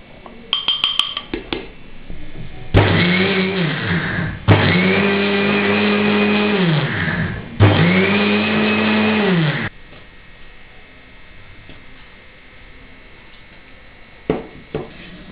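A kitchen mixer grinder blending ghee with a pinch of salt runs in three loud, steady bursts of motor whine, each lasting a couple of seconds with brief pauses between, then falls quiet.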